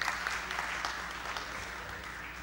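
A conference audience at a banking session claps together, a steady wash of applause at moderate distance that gradually eases off.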